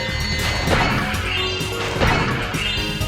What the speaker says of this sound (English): They make a glass shatter noise.